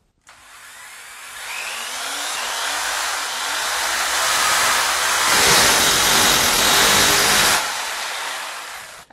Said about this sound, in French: On choisit donc un foret adapté à la taille des chevilles que l'on a achetées et on peut percer.